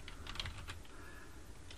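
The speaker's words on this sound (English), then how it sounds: "I'm going to type in" Fast, light keystrokes on a computer keyboard, heard alone and fairly faint as a web address is typed into a browser.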